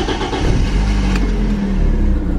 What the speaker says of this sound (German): Mein Auto macht gerade die ganze Zeit diese Geräusche, wie ihr sie gerade gehört habt, wenn ich es starte.